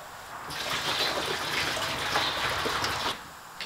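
White vinegar glugs and splashes steadily from a jug into a bucket for about three seconds, a continuous close pouring rush that stops abruptly.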